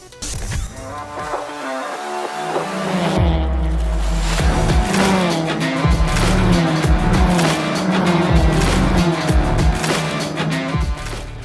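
Toyota Vios race cars compete at Clark International Speedway in the 2023 Toyota Gazoo Racing Vios Cup final, a loud sustained engine roar with shifting revs and tire noise, dense and continuous throughout.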